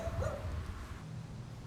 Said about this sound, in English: Now let's focus on the dogs.